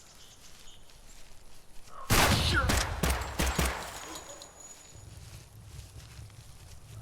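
A sudden burst of rapid suppressed gunfire in the video game Project Silverfish, several quick muffled shots over about two seconds, then fading into quiet ambient rumble.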